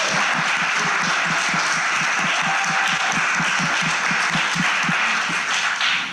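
A church congregation at a Thanksgiving service applauds its choir, producing a dense, even wash of clapping that holds steady and then begins to fade at the end.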